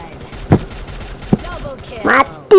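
Gunfire in the mobile battle royale game Free Fire comes as sharp bursts of shots and a loud final volley, mixed with excited voices talking over the game.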